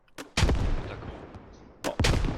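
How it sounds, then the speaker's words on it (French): Gunfire from a grenadier in a tactical shooter video game: two loud, sharp blasts about a second and a half apart, each trailing off into a rumbling decay, with no voices. "Il y a un grenadier qui shoot le haut du bâtiment"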